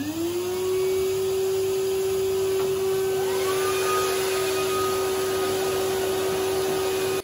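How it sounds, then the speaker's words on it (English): A vacuum cleaner and a hairdryer run together, a loud steady whir with a rising tone that settles into a constant hum. "I've got the hairdryer on and I've got the vacuum cleaner on"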